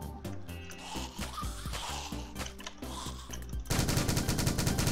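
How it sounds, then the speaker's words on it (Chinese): A Gatling gun fires in the zombie video game The Mining Dead, rapid loud bursts under game sounds and clatter, ending in a dense sustained roar of continuous fire. "加特林大佬直接开火"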